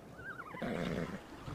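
A zebra-striped Equus mount in the mobile game ARK gives a single whinny: a wavering rising call that breaks into a loud, rough snort-like burst, close and clear, with no talk over it.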